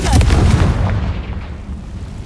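A Confringo fire spell bursts in Hogwarts Legacy: a loud, deep explosive boom at the start that rolls off into a rumbling decay, with no talk.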